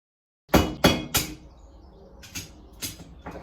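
Hammer blows ring out on hot metal being forged into a door latch: three quick, loud strikes, a short pause, then three lighter clanging hits, close up with no talking.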